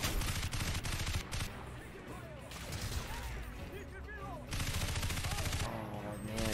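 Gunfire in the video game Crysis, dense continuous automatic shooting and bursts that fill the scene, mixed with game voices and speech over the top.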